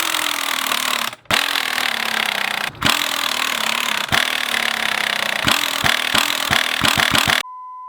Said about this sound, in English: Now you can see why I'm using an air tool.